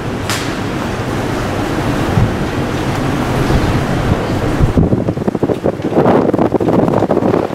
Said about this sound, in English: So the air outside will be doing the same thing, rushing in.